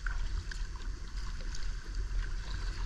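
A sea kayak paddle dips in a regular rhythm, roughly one soft splashing stroke per second, over a low wash of water and wind on an open coastal paddle.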